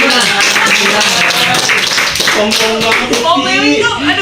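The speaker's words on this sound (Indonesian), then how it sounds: "Kasih tepuk tangan" Students in a classroom clap together during a group counseling session, brief loud clapping overlapped by voices, then talk continues.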